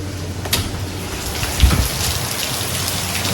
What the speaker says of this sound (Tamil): எடுக்கும் போது ஆரம்பிச்சிச்சு மழை